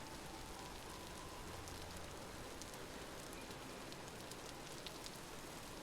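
Steady rain in the survival game Vintage Story: a dense, even hiss of falling water with faint scattered drop patters, fairly loud and continuous throughout, with no voices.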